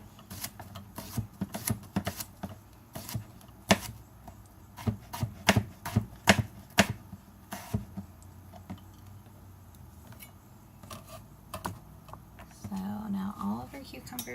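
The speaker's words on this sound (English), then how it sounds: "I love cucumbers, so I'm just going to cut mine up the way I want" Knife chopping Persian cucumber on a cutting board, close, crisp taps in uneven quick runs that thin out toward the end, where a brief rustle is heard.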